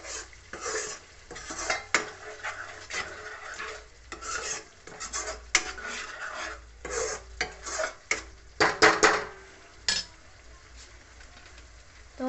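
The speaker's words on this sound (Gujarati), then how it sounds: "ધાણા જીરું અને હળદર. હવે આને મિક્સ કરી દેવાનું." Ground coriander, cumin and turmeric are stirred into a pan with a spoon, making repeated scraping and clinking strokes against the metal in an irregular rhythm, close and moderately loud, with no talking.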